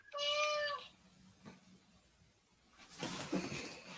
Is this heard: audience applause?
no